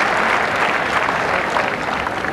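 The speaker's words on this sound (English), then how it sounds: "Crowd, good applause there." Crowd applause at a women's bowls championship match, a steady broad wash of clapping held at an even level throughout, close and full.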